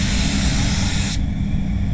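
A SATA spray gun lays down PPG LVC 105 clearcoat in a steady, loud airy hiss that cuts off abruptly partway through, leaving quieter low background rumble with no talking.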